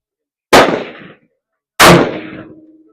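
Two loud, close gunshots at a shooting range, each a sharp crack with a decaying echo, spaced about a second apart with silence between them.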